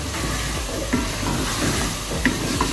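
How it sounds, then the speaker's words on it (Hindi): Potatoes are added to a hot pan of peas for a mixed vegetable sabzi and stirred, making a steady frying sizzle with a few soft knocks of a spoon against the pan. "उसके बाद अब हम इसमें आलू डाल देंगे"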